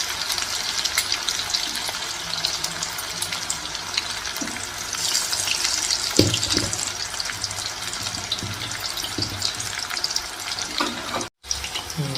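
Raw banana pieces frying in oil on a high flame, a loud steady sizzle running throughout with a few brief clinks of a utensil against the pan.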